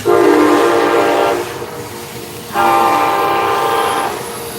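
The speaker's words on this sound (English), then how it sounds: "the only disturbances I have in my hood is the train" A train passing close by in a residential neighbourhood, two long loud horn blasts over the rumble of rail cars, with no voices.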